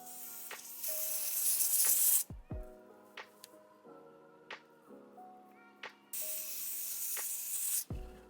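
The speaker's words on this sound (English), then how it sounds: "getting our glue out, and we're just gonna spray along the hairline." Wig glue sprayed along a hairline in two sustained close hissing bursts, with quiet handling clicks and rustles between them.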